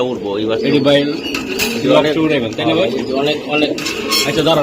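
Green-necked pigeons coo steadily in a loft, their dense throaty calls overlapping and close. Faint clinks and other bird noises sit underneath.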